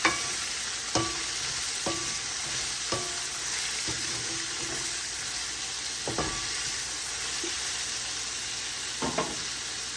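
Onions with salt sauté in a pan, a steady sizzle and fry crackle running throughout with occasional sharp stirring knocks against the pan, close and moderately loud, no talking.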